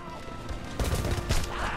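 Rifle gunfire in the video game Homefront, bursts of shots crackling loudly at about the one-second mark and again near the end over a steady background din.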